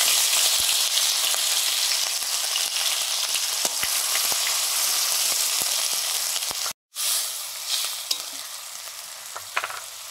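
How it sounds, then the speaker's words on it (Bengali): Onion paste and chopped tomato fry in mustard oil with a loud, steady sizzle and faint scattered ticks, broken by one brief silence midway before the hiss returns, with no talk. "সরষের তেল দিয়েছি, এবার দিচ্ছি পেঁয়াজ বাটা, টমেটো কুচি"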